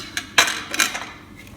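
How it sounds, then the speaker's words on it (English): A knife is picked up amid clinks of metal against a tray while trimming brisket for the Big Green Egg, two sharp clattering contacts close by followed by fainter rattles. "Grab my other knife."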